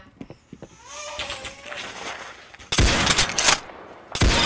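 Gunfire from the Roblox shooter Arsenal comes in loud, dense bursts in the second half of the clip, after a quieter opening of small sounds and game effects.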